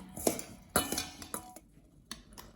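Chili spices and oregano being stirred together in a bowl, a few irregular clinks and scrapes of a utensil against the dish, fairly close and quiet, with no speech.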